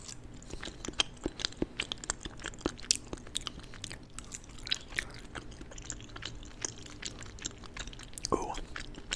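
Close-up eating of Chick-fil-A mac and cheese in an ASMR mukbang, with soft, wet chewing and bites repeating irregularly throughout, plus faint low-level vocal sounds.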